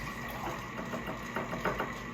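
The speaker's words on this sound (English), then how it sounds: "you could also rinse it off right here, just like this" A matcha whisk is rinsed under hot running water by a sink, a steady close hiss and splash of the stream with faint shifting gurgles as the whisk moves through it, and no voices.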